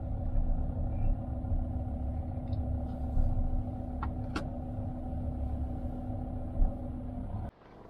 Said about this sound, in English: The traffic's quite slow along this road.